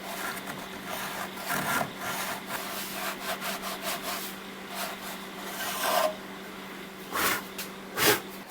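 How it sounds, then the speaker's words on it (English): A hand saw cuts through wood for a jig's fence stop, producing steady rasping back-and-forth strokes, close and fairly soft, with a few sharper strokes near the end. "I could make the initial cut into the fence stop"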